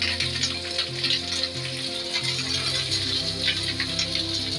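Capsicum frying in a pan alongside onions for a dhaba-style paneer curry, a steady close sizzle with light rattling bursts running throughout.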